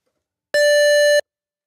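A synthesizer lead built from two identical square or pulse waves at equal volume plays one steady, buzzy sustained note of about two-thirds of a second, loud and alone, with sharp on and off edges.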